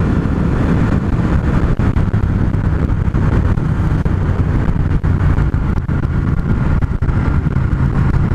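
A Triumph Speed Twin motorcycle engine under throttle gives a loud, close, continuous rumble that stays fairly steady throughout, with a rough vibrating texture and no speech.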